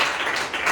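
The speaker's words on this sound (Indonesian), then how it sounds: "Oke, tepuk tangan untuk Faras dan Adam." A classroom of students claps together for two classmates, a short burst of applause with dense overlapping hand claps, fairly loud and close.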